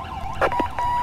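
Police car siren from the video game GTA V, a wailing electronic tone heard briefly and fairly close, with a few short bursts cutting across it.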